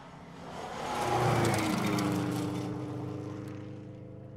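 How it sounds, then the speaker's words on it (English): A turbocharged all-wheel-drive Subaru Impreza rally car driven by Carl Decker passes on a stage of the 2012 Oregon Trail Rally, its engine swelling as it nears, peaking, then fading away with a falling pitch. "Carl Decker's car also turbocharged all-wheel drive Subaru"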